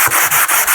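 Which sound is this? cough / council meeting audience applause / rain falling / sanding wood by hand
sanding wood by hand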